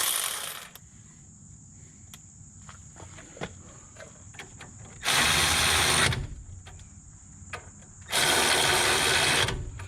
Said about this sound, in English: now I'm just going to quickly zap them in with my battery ratchet